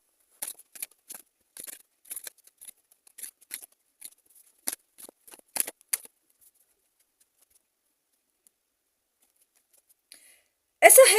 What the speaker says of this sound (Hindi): चलिए कुछ कार्ड्स लेते हैं।